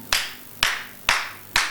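Four sharp, evenly spaced hand claps ring out from a church congregation during a sermon, each crisp and fairly close, with no other sound between them.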